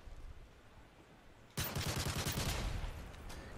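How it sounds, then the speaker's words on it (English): Friendly strafe run in a video game: a sudden loud burst of rapid gunfire erupts after a quiet stretch, a dense rattling volley that holds for over a second before thinning out. "Friendly strafe run incoming."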